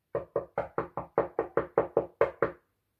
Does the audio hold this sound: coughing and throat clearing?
no